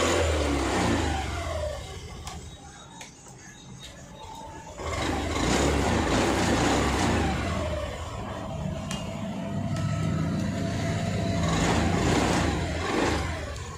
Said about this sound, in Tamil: திரும்பவும் செல் போட்டு காமிக்கிறோம்.